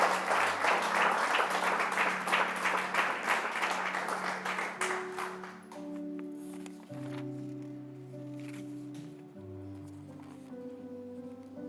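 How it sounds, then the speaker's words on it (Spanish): A church congregation applauds, a dense burst of many hands clapping that fades out over several seconds as sustained organ or keyboard chords rise underneath and carry on alone. "Démosle un aplauso al Señor"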